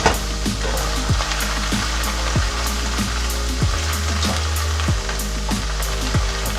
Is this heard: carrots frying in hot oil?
yes